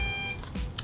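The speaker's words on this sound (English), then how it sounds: "The beeping that you heard is another nice feature this quad has." A short electronic low-battery beep sequence from an MJX Bugs 3 drone transmitter, a steady tone followed by a couple of brief chirps, close and fairly quiet, with no talking.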